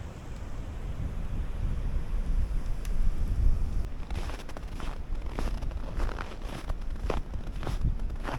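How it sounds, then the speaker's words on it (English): Strong wind sweeps through Canadian winter wilderness at about -30°C, a steady close rumbling roar with scattered sharp crackles in the later seconds. "The wind's racing right through."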